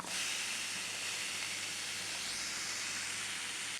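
Grated coconut and shallots fry dry in a hot cheenachatti, a wok-like pan, with no oil added, giving a constant close hiss and sizzle that holds steady and fairly faint, with no voices.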